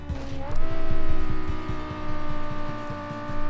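Engine of a TAG Anavia GT car cruising a motorway in BeamNG, a steady loud drone with a pulsing low rhythm and a brief rise in pitch as it pulls through the gears.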